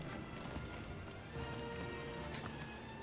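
A horse gallops in the video game Shadow of the Colossus, hooves pounding steadily beneath a dense, loud wash of game sound for a few seconds.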